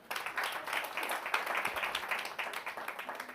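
An audience at a corporate sustainability event applauds the previous presenters, a dense, steady clapping that lasts throughout at moderate loudness.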